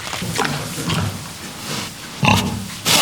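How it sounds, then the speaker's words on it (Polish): Farm pigs grunting and oinking in a bursty sequence of close, loud calls with short pauses, ending in a louder squeal. "To świnie hodowaliśmy od zawsze i hodujemy."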